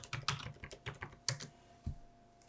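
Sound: typing a password on a computer keyboard

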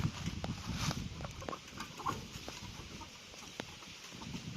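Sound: chickens clucking at a rubber plantation

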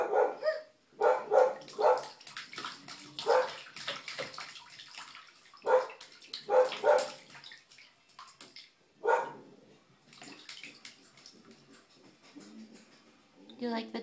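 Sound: puppy barking during bath time

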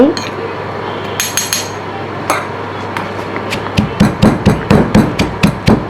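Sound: pounding curry paste ingredients in a mortar

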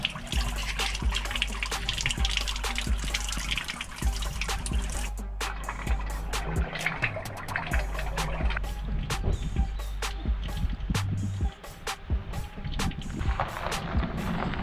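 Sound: spring water flowing down from the mountain

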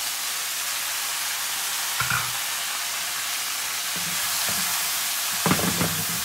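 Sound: potatoes frying in a pan

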